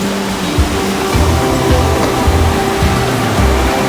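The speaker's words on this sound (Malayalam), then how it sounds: "ഇതാ എന്ത് ഫോഴ്സിലായി വെള്ളം ഒഴുകുന്നല്ലേ." Glacial meltwater rushes forcefully near Joffre Lake, a loud, constant roaring wash of water close by with no speech.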